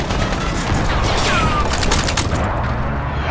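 Call of Duty: Modern Warfare beta airstrike, a loud dense burst of rapid gunfire and booming explosions rolling together over about three seconds, with a brief whistling streak mid-way.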